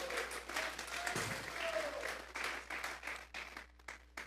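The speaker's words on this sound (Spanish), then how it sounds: "Vamos a regalarle ofrenda de palmas al Dios de la gloria" A church congregation claps together as an offering of applause during a sermon, a dense, sustained burst of many hands with some crowd noise and a few voices mixed in, fading to scattered claps near the end.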